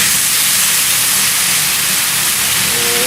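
Ketchup hits a hot frying pan with softened onions and meat for omurice and sizzles as a loud, steady, hissing crackle that fills the whole stretch without a break.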